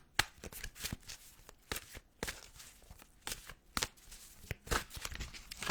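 A deck of oracle cards is shuffled by hand in a quiet room, a run of quick papery riffles and flicks in uneven bursts, close and fairly soft, with no talking.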